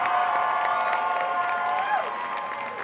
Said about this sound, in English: why don't we get a nice round of applause out here for both of these fighters